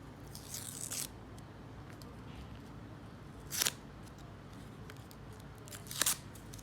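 Quiet crinkling of a paper packet being torn open, with three short rustling bursts separated by pauses against a faint background hum.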